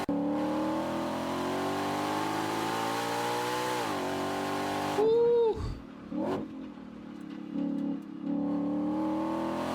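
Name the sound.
sports car exhaust accelerating hard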